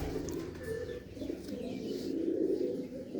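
Pigeons in a loft, among them a female pigeon, coo in a soft, continuous low murmur nearby, with a faint chirp rising now and then above the burbling.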